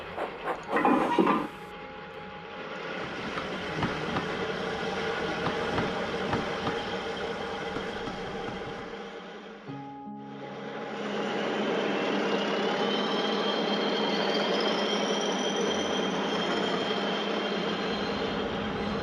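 A train rumbles steadily along the rails, with a faint high squeal of wheels rising partway through and a brief lull in the middle.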